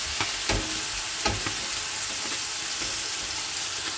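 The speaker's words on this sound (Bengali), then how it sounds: "তেলের মধ্যে এটা একটু ভাজা ভাজা করে নেব" Tomato, green chili and garlic paste frying in oil gives a continuous broad sizzle with a few sharper crackles and stirring bursts, close and unbroken, no talking.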